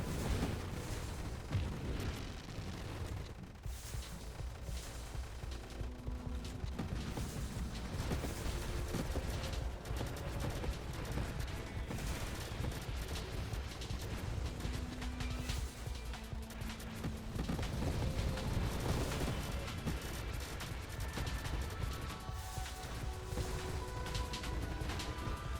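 Heavily upgraded defensive turrets in a wave-defense video game fire nonstop, producing a dense, loud barrage of booms and blasts that runs continuously with no pauses and no talk.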